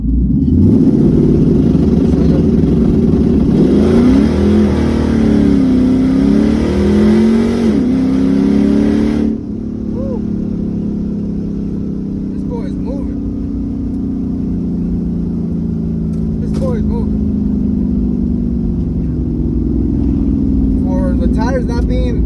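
An S550 Ford Mustang GT V8 rumbles loudly and revs with wavering pitch while held on a trans brake, then settles into a lower steady drone as it launches, recorded from inside the car with occasional faint sounds.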